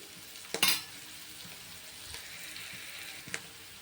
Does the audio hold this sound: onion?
yes